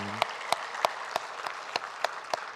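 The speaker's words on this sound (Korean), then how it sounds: "부활하신 주님께 영광의 박수 올려드리겠습니다" A church congregation at an Easter Sunday service claps together in a steady rhythm, about eight sharp, evenly spaced claps in unison over a low hum, fairly close and moderately loud.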